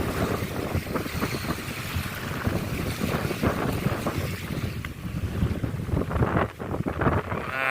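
Strong wind roars and gusts hard against the microphone, a loud, constant buffeting rush with no voices.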